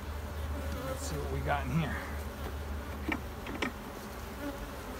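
Honeybees in an opened hive keep up a close, continuous buzzing while someone speaks a short phrase over it and equipment clunks now and then.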